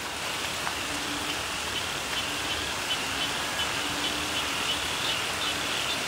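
Steady rain falls continuously, an even, moderately quiet hiss with faint scattered patters and no pauses.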